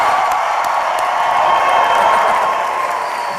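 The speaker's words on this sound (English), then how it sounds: "I want to hear everybody cheer as loud as you possibly can" A college commencement crowd cheers and whoops loudly in a large hall, a dense, sustained roar of voices with some clapping that eases slightly toward the end.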